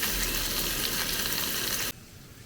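Sausages sizzling in a pan on a camping stove, a dense steady hiss of frying fat that runs loud and close for about two seconds, then drops abruptly to a quieter background.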